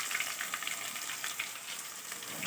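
Brinjal curry with masala sizzles and crackles in hot oil in a pan, a steady close frying hiss with faint stirring and no voices.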